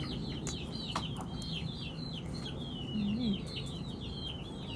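Chickens cluck and call on a farm near a cassava field, a series of soft repeated bird calls over a steady outdoor background, with a brief low voice partway through.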